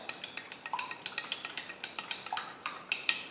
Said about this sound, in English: So let's give it a stir.